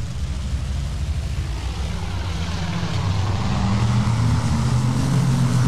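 Model airplane engine in the Real Flight 9.5 RC flight simulator game, a steady loud drone that builds slightly during takeoff, with low rumbling tones and no talking.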